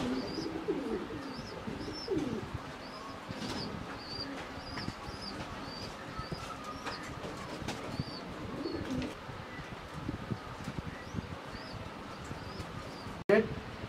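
Pakistani high flyer pigeons, a magpie pair in a loft, coo softly and repeatedly at close range, with quiet background noise and a sharp knock near the end.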